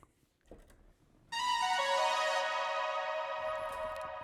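A short bright synth melody from a free 'Reverie' sample pack, ringing out clearly after a few faint knocks, its tones stepping down and sustaining before slowly thinning out.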